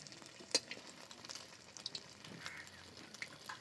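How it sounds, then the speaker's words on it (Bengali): Pieces of flour dough fry in a pan of oil, giving a soft, steady sizzle with small crackles and an occasional scrape or stir, heard quietly with no voices. "খুব ভালো করে ভেজে নেব।"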